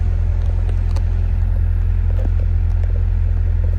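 A 2000 Nissan S15 Silvia Spec S with 180,000 kilometers idles steadily, a low constant engine rumble close by, with faint clicks and small handling noises over it and no talking.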